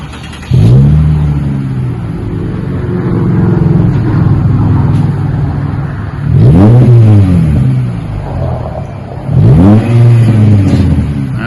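A 2025 Lexus with its rear mufflers deleted is revved three times, each blip rising sharply and falling back to a loud, deep idle rumble up close.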